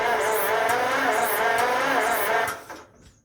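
A 1948 John Deere Model M tractor engine running loud and close, a steady rough roar with rhythmic pulsing, then quickly dying away into near silence as it shuts down.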